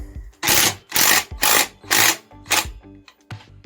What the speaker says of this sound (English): I'll just go ahead and tighten it down right here. The main axle bolt.